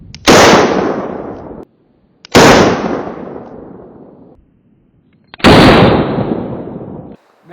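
Three loud, close gunshots from repaired Colt revolvers being test fired at a range, each a sharp blast with a long rolling echo, spaced about two to three seconds apart.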